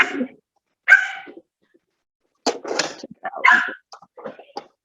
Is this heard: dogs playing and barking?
yes